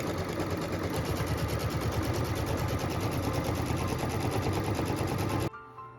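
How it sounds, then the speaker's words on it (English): An embroidery machine stitches a placement line onto quilt batting with a loud, steady, rapid mechanical whirring that runs without a break and stops abruptly just before the end, with no voices. "go ahead and stitch the placement line for our batting"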